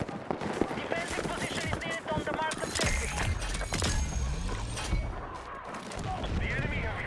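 Rapid gunfire crackles in a first-person shooter video game, repeated loud shots and bursts mixed with in-game radio chatter and voices over busy battlefield noise.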